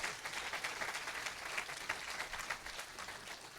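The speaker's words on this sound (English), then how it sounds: "Yeah, you can applaud" Faint, distant applause from mourners at a celebration-of-life memorial, a steady patter of many hands that stays even throughout.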